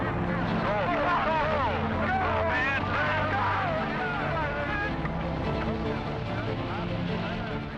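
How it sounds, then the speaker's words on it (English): Saturn I rocket engines roaring at liftoff, a loud, continuous broadband rumble that holds steady for the whole stretch, with voices overlapping on top. "Ignition. Engines running. Thrust commit. Launch commit. Lift off."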